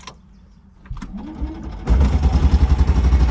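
A 1959 BMW Isetta 300 engine cranks briefly, then catches and settles into a loud, close, steady idle with a rapid regular putter throughout.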